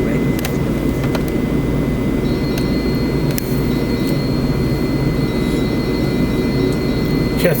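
An aircraft engine roars at takeoff power in Microsoft Flight Simulator 2020, a loud, steady, continuous drone with a thin whining tone on top, holding evenly throughout and heard alone.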